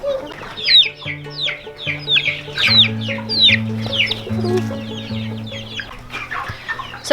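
Chickens cluck and squawk inside a makeshift chicken coop, a busy run of repeated sharp calls from several birds close by over a low steady hum, with no talk.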